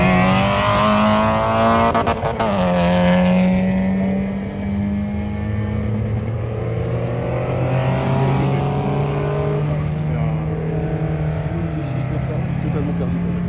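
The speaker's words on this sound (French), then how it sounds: "t'as une 205 GTI préparée par un gars qui a mis un moteur de 405 MI16 dedans. Elle bombarde la bagnole" A tuned Peugeot 205 GTI race car fitted with a 405 Mi16 engine runs on a circuit, its loud, buzzy engine note climbing and dropping through gear changes in continuous sweeps, close to the listener.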